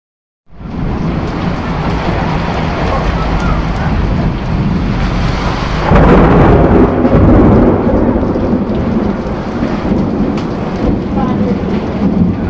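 A hailstorm with heavy rain and thunder over Depok, West Java, roars as a loud, dense, unbroken downpour, swelling with a deep rumble partway through while wind churns underneath.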